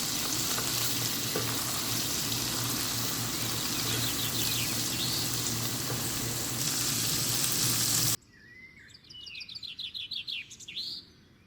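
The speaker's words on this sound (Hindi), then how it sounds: "इसको भी साथ साथ हम थोड़ा सा फ्राई कर लेंगे" Ginger garlic paste frying in hot oil for haleem, a loud dense sizzle for about eight seconds before it cuts to quieter outdoor sound with birds chirping.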